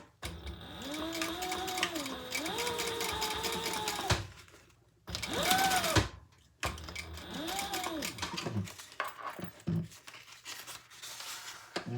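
A sewing machine top-stitches the bottom gusset of a small fabric traveler pouch, running in a steady whirring burst, stopping briefly, then running again in shorter bursts with clicks and pauses near the end.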